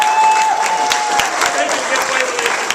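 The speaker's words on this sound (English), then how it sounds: "Give her a big round of applause." Loud, close applause from an audience at a children's magic show, dense clapping and crowd noise filling the whole moment without a pause.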